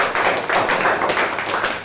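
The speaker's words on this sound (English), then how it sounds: "Give a clap to Daniel Hickman" A classroom audience applauds a student, a steady dense patter of many hands clapping continuously for about two seconds at moderate loudness, with no talking over it.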